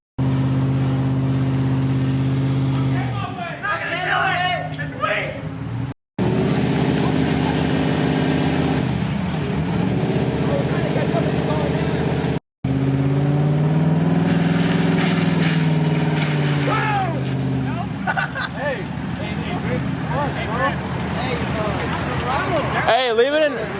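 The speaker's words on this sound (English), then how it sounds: "leave it in first and give it a lot of RPM" A lifted 2015 Chevy Silverado truck revs its engine hard in first gear while mudding, with a loud, sustained drone that rises and falls, broken by two brief cuts, with people talking over it.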